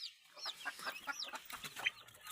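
A Labuyo jungle fowl hen clucking softly near its eggs, giving a run of quiet repeated clucks and short chirping calls at an even pace, faint and close, with no talking.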